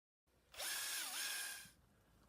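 A power drill drives a self-drilling screw into a metal greenhouse purlin near vice grips: a soft start, then about a second of loud, steady high whine with a brief pitch dip before it winds down. No voices.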